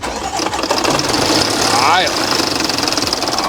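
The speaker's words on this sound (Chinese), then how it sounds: "这一听这发动机哗啦啦哗啦啦哗啦啦就干了" A Land Rover engine with a badly loose timing chain runs with a continuous harsh metallic rattle, close and loud, while people talk over it.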